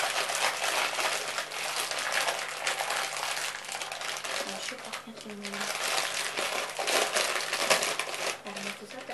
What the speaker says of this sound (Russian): Для меня вот это слышно, оно шуршит громко.